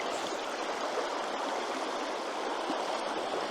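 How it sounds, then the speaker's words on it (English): A fast-flowing forest river in trout and grayling country rushes past close by, a steady, dense wash of moving water that runs unbroken throughout with no voices. "This place looks like the water is moving a little bit too fast"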